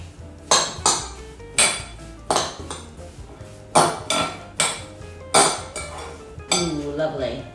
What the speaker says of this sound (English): I'm gonna take a spoon, mix it all together